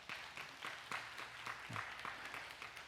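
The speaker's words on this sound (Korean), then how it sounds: "오늘 저 박수 한번 칩시다." Church congregation claps together in a sanctuary, a fairly even run of individual claps repeating in a loose rhythm, moderately close and a bit sparse rather than a full roar.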